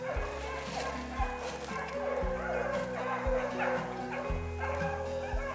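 Rabbit hunting dogs bark and yip in the field, a series of eager bays and whimpers heard at a moderate distance while someone talks over them.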